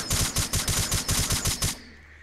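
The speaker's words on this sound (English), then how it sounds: "Okay, you use it and then they explode." Bat shurikens explode in a rapid string of about nine sharp, evenly spaced bursts in a fighting video game, loud and close, ending abruptly into a low fading hiss.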